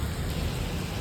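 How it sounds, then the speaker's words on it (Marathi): Heavy monsoon rain pours down near a highway toll plaza, a dense, even roar of broadband hiss that holds steady throughout, close and loud, with no talk. "बघा कसला बेकार पडते बघा पाऊस."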